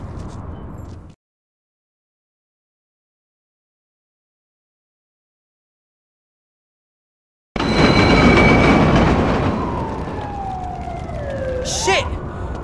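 Train running in a film scene: a loud rumbling rush with a rising and falling high whine begins after a long silence, and carries on steadily to the end under a sharp screech.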